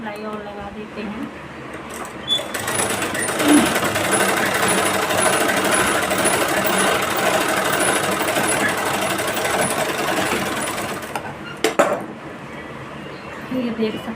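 A sewing machine runs an extra line of stitching on a blouse, a rapid, continuous mechanical clatter that starts after a brief pause, lasts about nine seconds, then stops, with a voice talking faintly around it.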